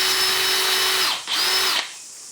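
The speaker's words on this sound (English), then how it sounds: "I like to use the Hitachi 18 volt cordless drill for doing this job, because it's variable speed." A Hitachi 18 volt variable-speed cordless drill spins a welded nail in loud, close whirring bursts, running about a second, dipping briefly, revving again, then winding down.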